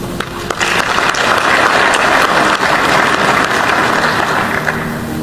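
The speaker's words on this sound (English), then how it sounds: "And we must applaud you and applaud through you ourselves as a country." Audience applause during a speech by the President of Botswana, a sustained broadband clatter of many hands clapping at steady loudness throughout, with no talk over it.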